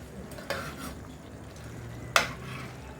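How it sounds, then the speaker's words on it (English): Fish frying in a pan as it is turned over, with a soft sizzle under two sharp utensil scrapes against the pan. "I'm actually just turning the fish, flipping it over on the other side."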